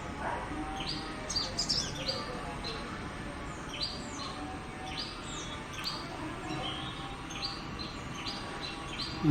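A small nectar-feeding sunbird calls while drinking from coconut palm flowers, giving repeated thin, high chirps and quick tweets at irregular intervals over a soft outdoor background.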